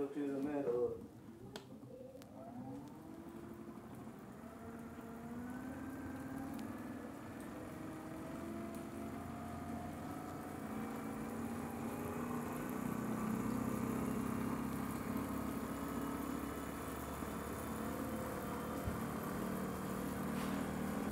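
Bicycle generator motor spun by pedaling, a whirring tone that climbs gradually in pitch as it speeds up, with people talking over it.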